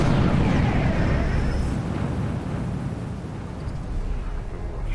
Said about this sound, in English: That's a nice explosion.